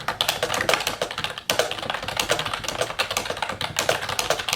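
Rapid, continuous typing on a computer keyboard while writing a novel, close and clear with irregular clusters of key taps and no talking.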